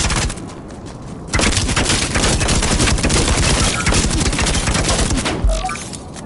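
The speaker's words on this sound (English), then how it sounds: "Somebody's shooting at us." Dense, sustained gunfire in the video game Firewall, loud, close bursts of automatic shots running almost continuously after a brief quieter start, ending with a heavier thump.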